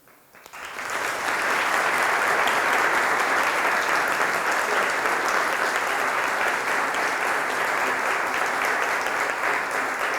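An audience at a JavaScript developer conference applauds after a talk, a dense, steady wash of clapping that swells quickly and holds loud and even for about ten seconds.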